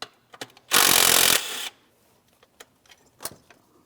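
A 10 mm bolt comes off a 2015-2025 Ford Transit 250 during ignition coil boot work: one short, loud burst of a tool running for under a second, followed by faint clicks and small metallic handling sounds.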